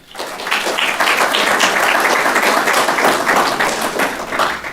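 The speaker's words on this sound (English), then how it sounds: "we're going to give a nice round of applause to all of these lovely ladies" An audience claps loudly and steadily for a few seconds, a dense wash of applause.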